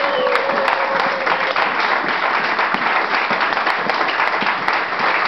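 A church congregation applauding together, dense sustained clapping that fills the room steadily from start to finish, with a few louder individual claps standing out near the front.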